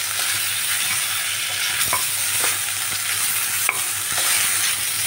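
Raw banana and potatoes are stirred and fried in a pan: a strong continuous sizzle broken by several spatula scrapes and knocks, close up.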